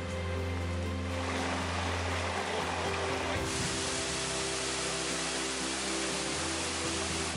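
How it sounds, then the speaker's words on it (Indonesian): Curug Mbah Gimo, a waterfall over 15 metres tall in West Lampung, Indonesia, pours as a steady, dense roar of falling water. A constant low tonal hum sits beneath it. "Keindahan air terjun nampak seperti tirai air raksasa setinggi 15 meter lebih"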